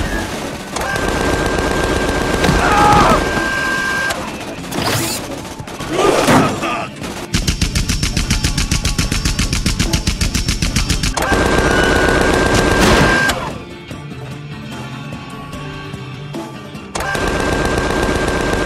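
Rapid automatic gunfire from a robot in the video game Tales from the Borderlands: long sustained loud bursts broken by short pauses and a few heavier impacts, with brief stretches of quieter ambience between volleys.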